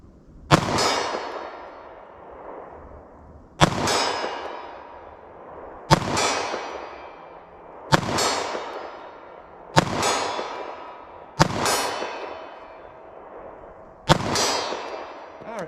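Seven 9mm pistol shots ring out at a steady, unhurried pace toward a target 40 yards away, each a loud close crack with a metallic ringing decay trailing off before the next.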